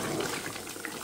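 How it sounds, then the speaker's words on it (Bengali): Beef curry bubbles in a pot on the stove, a continuous dense watery simmer heard up close and fairly loud throughout the short moment. "এই হাঁড়িতে রান্না হচ্ছে গরুর মাংস, ঝুলে টকবক করছে"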